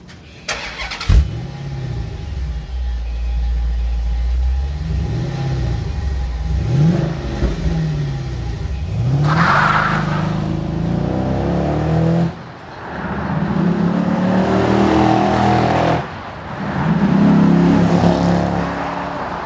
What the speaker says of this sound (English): Let's hear the stock exhaust system first.